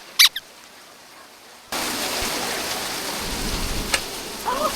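Steady rain starts to pour down and hiss outside a minivan during a camping trip, a dense unbroken wash that follows a short quiet spell and a couple of faint squeaks.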